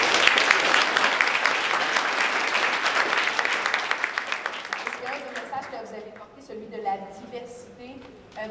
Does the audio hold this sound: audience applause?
yes